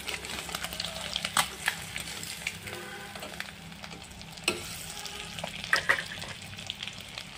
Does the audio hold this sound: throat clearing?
no